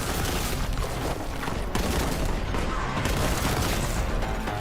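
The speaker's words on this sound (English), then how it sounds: "Explosions!" Dense, continuous combat noise from the game Warhammer 40,000: Boltgun, with booming explosions and rapid gunfire-like bursts, loud and unbroken throughout with no talking.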